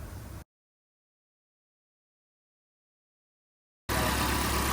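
A van's car engine idles roughly with a steady close rumble, heard briefly at the start, then cut by a long stretch of total silence before returning louder.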